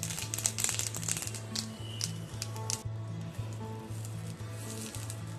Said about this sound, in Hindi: करीब 1 चम्मच जीरा फूट रहा है अच्छे से